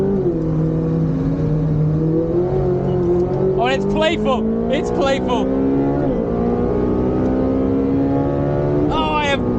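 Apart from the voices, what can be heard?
car engine revving while shifting down gears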